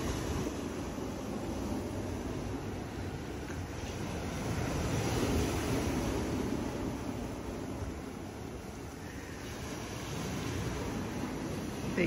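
Continuous ocean surf washing ashore beside a resort infinity pool, a steady broadband roar with gentle swells in level, fairly soft and unbroken for the whole stretch, no voices.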